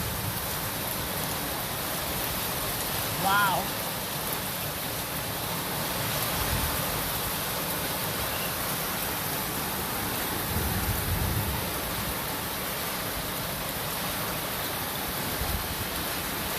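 Hail pours down in a steady, dense hiss and patter in rural South Africa, with low rumbles beneath and a voice briefly exclaiming once.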